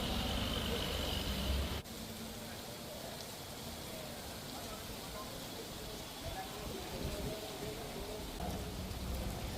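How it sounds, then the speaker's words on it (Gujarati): Steady rain pours over streets near Green Market and Town Hall Circle in Jamnagar, Gujarat, a dense continuous hiss with a brief louder burst at the start. "green market, town hall circle સહિતના વિસ્તારોમાં વરસાદ પડી રહ્યો છે"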